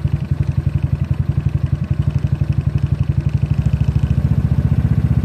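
A ZNEN ZN150T-9 scooter engine revs steadily, its close, loud exhaust beat pulsing rapidly and evenly without any talk.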